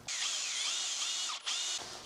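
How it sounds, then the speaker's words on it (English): A power drill boring holes into a Mazda Miata steering wheel, running steadily and loud with a brief dip partway through, no voices. "we should be all set to drill this exactly where I want"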